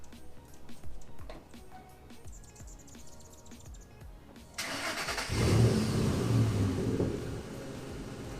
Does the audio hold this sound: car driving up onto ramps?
yes